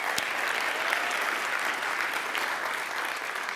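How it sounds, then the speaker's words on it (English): Sustained applause from a parliamentary audience, dense steady clapping filling the whole stretch at an even level with no break. "I'm glad you applauded that,"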